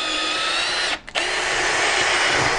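A power drill with a wood auger bit bores through timber with a loud, steady high-pitched whine, briefly cutting out for a moment before spinning back up and continuing close by.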